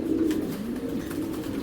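A Girbaz pigeon coos steadily and close by, a soft low repeated call running throughout with no talk over it.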